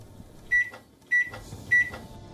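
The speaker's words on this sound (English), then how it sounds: "The beeping sound of a microwave" A microwave oven gives three short, clear electronic beeps, evenly spaced about half a second apart, close and alone over a quiet kitchen hum.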